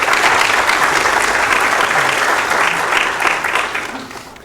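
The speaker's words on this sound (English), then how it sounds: "round of applause for Stephen" Conference audience applauding Stephen, a loud, dense burst of clapping from a full room that holds steady for several seconds and then tapers off toward the end.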